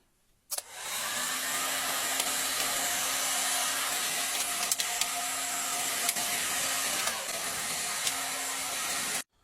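Ordinary hair dryer switched on to heat and seal a homemade plastic-bottle fermentation airlock, a loud steady blowing roar lasting about nine seconds before cutting off abruptly.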